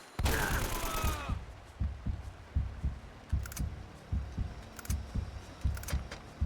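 Gunfire in Uncharted: Drake's Fortune, an opening burst of rapid shots followed by a steady rhythm of muffled, thudding gunshots at moderate distance, with faint metallic clicks in between.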